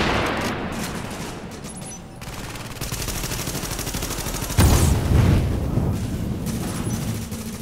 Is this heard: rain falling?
no